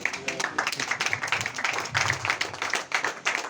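Applause from attendees at a civil society roundtable on building and road research, a busy patter of clapping hands sustained for several seconds with faint background voices underneath.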